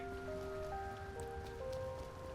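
Steady rain hisses in the video game Trails Through Daybreak while a street scene plays, a continuous even wash under sustained tonal game music, with no talk.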